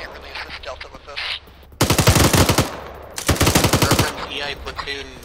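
Heavy machine gun fire in a video game engagement, two long sustained bursts of rapid loud shots with brief gaps, crisp and close, with a short pause between them.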